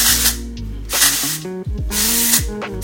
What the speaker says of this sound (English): and then I'm gonna spray.